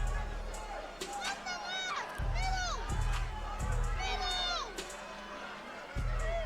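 A crowd at a brutal new sport's main event cheers and shouts continuously, with excited high-pitched yelling rising and falling over a steady roar, with commentary over it.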